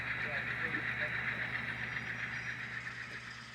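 An HO scale Alco C-636 model locomotive runs with a steady whirring, hissing motor drone, held at a fairly even level under a voice.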